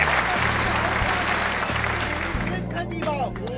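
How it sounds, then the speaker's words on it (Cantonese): Applause and cheering from a crowd at a neighbourhood rock-fishing competition in Tseung Kwan O, steady clapping throughout with an announcer's voice and excited shouts over it. "掌聲歡迎第1名以雲傑樂。"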